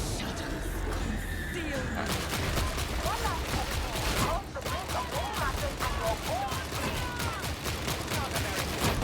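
Rapid bursts of gunfire from the video game Darktide crackle in quick, regular succession, loud and close, with in-game voices and cries mixed in among the shots.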